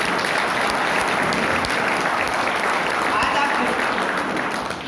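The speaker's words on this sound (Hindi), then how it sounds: "एक बार जबरदस्त ताली बनती है सभी के लिए" An audience at an Indian seminar gives a big round of applause, dense continuous clapping from a crowded hall sustained for several seconds and fading slightly at the end.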